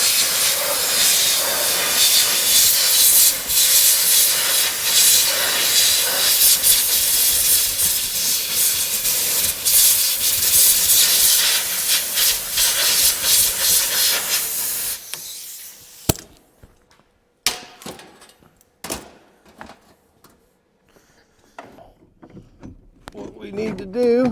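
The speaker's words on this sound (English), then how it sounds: "I will get the air gun and we will blow this thing out" A compressed air gun blasts a loud, continuous hiss into a cheap car for about fifteen seconds, then cuts off, leaving scattered short bursts and quiet gaps.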